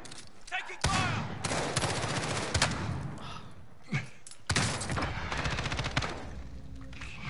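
Gunfire in the video game Call of Duty: Warzone: two long, loud bursts of rapid automatic fire with heavy thuds between them, the shooting close and dense.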